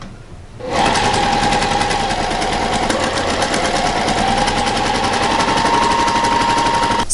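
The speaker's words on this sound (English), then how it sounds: "So I'm just sewing up the side seam of the skirt" Sewing machine stitching the side seam of a skirt, a loud, close, fast mechanical rattle that starts abruptly and keeps up a steady even rhythm, with no talking.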